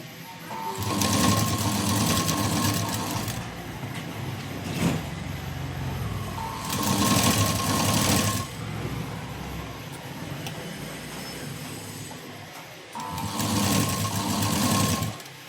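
A sewing machine stitches piping around a round neckline in three sustained runs separated by short pauses, close and steady, with faint background noise between the bursts.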